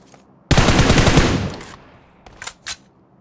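Machine gun fire in the PUBG Mobile video game: a loud sustained burst of rapid automatic shots lasting about a second, then trailing off, followed by two fainter, shorter bursts or impacts.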